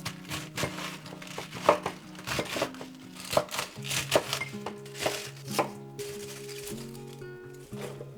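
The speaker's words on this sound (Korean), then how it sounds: "양배추 썰어볼게. 양파랑 비슷한 크기로." Cabbage being chopped with a knife on a board, a quick irregular series of close, crisp cuts and thuds that thin out near the end.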